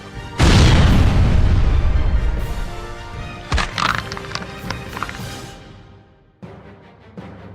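Explosion effect from a booster attack in a fighting episode, a loud close boom with a long roaring decay, followed by a sharp second blast, scattered impacts, and a brief tail after a cut.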